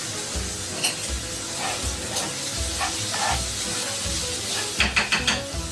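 Hearts fry in a pan for solyanka with a steady close sizzle and hiss, broken by stirring scrapes and a cluster of sharper spatters near the end.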